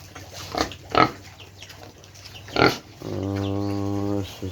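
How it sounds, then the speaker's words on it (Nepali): Pigs on a pig farm grunt and snort in short bursts, then one lets out a sustained harsh tonal squeal near the end, close by over faint background. "सुँगुरहरू छन्।"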